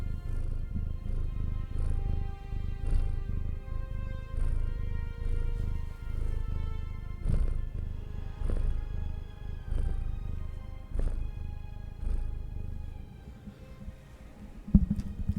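A tiny 8-pound cat purrs close by as a soft, steady low rumble that runs through the whole stretch, with faint ticks over it and no talking.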